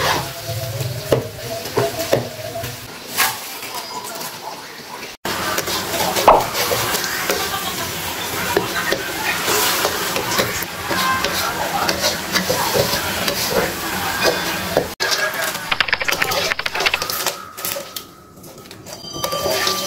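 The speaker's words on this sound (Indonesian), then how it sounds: "masih menggoreng-goreng, masih di dapur." Cassava chips fry in a pan of hot oil in a home kitchen, a dense continuous sizzle layered with scraping stirs and clinks of a utensil, loud and close throughout with a brief break partway.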